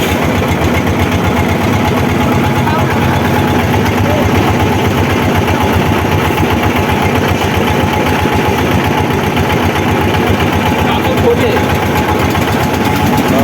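A boat engine idles and chugs steadily at a river quarry where boats carry stones, a continuous mid-low drone with knocking, running throughout with background voices.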